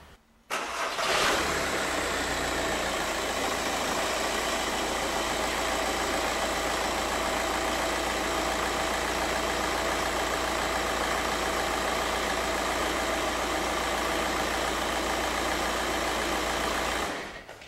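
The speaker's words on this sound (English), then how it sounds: "we're going to start the vehicle so I can inspect the Serpentine belt system" A 2006 Volkswagen Jetta TDI diesel engine starts with a brief crank and then settles into a loud, steady idle close to the listener, running without change until it is switched off near the end.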